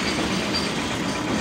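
Freight train wagons at a railway near Borra Caves roll past close by in a steady, continuous clatter of wheels and cars, loud and unbroken, with no talk.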